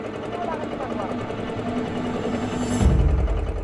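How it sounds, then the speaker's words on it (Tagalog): Boat engine chugging steadily at sea near the Gigantes Islands, a continuous droning rumble that grows louder toward the end. "ang madalas na pumailan lang na ingay sa karagatan, tunog ng makina"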